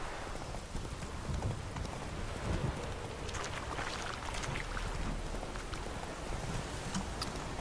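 Steady rain in the video game The Witcher 3, a continuous broadband hiss of falling water with faint patter and a low rumble underneath, constant throughout, with occasional soft hoof-like clops.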